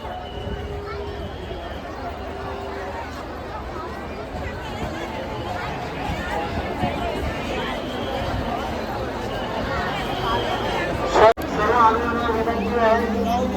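A large crowd gathers at Chaityabhoomi in Mumbai on Dr. Babasaheb Ambedkar's death anniversary. A dense, continuous hubbub of many voices carries on throughout, with a sharp knock near the end.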